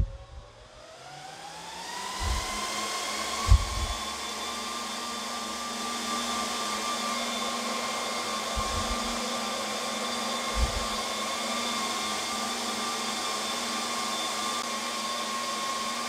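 Lenovo RD650 server fans spin up after power-on, a rising whine that settles into a loud, steady roar with a few low thumps, no voices.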